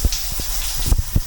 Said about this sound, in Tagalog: Lakas ng shower niya.